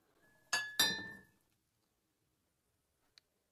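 Two bright glass clinks ring out close together, fading quickly, followed by silence and one tiny tick near the end.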